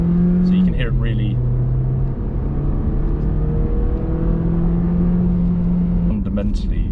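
A 1.3 litre car engine revs in paddle-shift manual mode, a steady droning note that climbs and holds through several gear changes, heard close up from inside the cabin with brief talk at the start and end.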